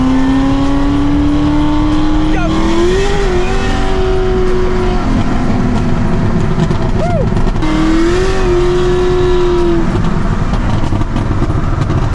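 A 1,000-horsepower Corvette ZR1 with a new aftermarket exhaust revs close and loud, its tone rising and falling through two distinct throttle blips over a constant rumbling idle.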